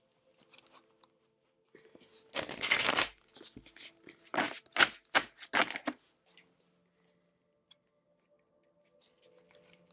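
Tarot cards are riffled and shuffled in a few quick bursts, then a card is drawn with a soft slide, close and crisp in an otherwise quiet room.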